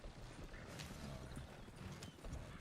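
Horses clip-clop along a road in a video game, steady hoof falls with a brief whinny, all heard close over constant game ambience, with no talking.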